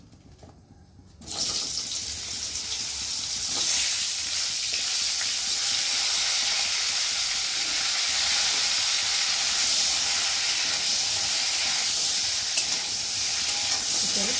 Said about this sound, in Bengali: এদিকে কপি ভাজা হচ্ছে আর আলুটা ভাজা হয়ে গেছে